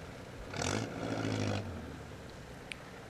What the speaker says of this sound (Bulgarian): Преминава бавно, без да форсира двигателя.